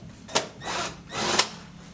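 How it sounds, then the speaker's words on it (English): Power driver removing screws from the internal assembly of a Whirlpool microwave during a magnetron repair: two short whirring bursts with a brief pause between, close and fairly quiet, no talking. "there's a couple more screws that I have to remove back here to remove this assembly"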